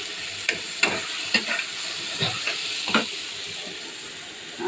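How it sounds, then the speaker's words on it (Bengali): Tomato added to fried fish in a miniature pan, a soft sizzle under a series of light, sharp stirring scrapes spaced about half a second apart, close and moderately loud. "ভাজা ভাজা মাছের মধ্যে একটু টমেটো দিলাম"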